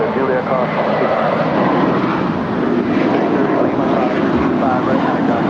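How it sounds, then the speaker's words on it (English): A JetBlue Airbus A321 jet airliner at LAX airport, a loud, steady engine roar and rumble that holds throughout, with voices talking over it. "That's JetBlue 1388 on its way to Boston. 4-year-old A321."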